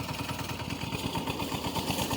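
A Captain mini tractor with a rotavator runs in a castor field, giving a rapid, steady engine chug with clattering pulses at close range.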